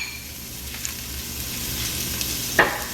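Two tablespoons of butter and half a large onion fry over high heat, giving a soft, steady sizzle with one brief utensil clink near the end.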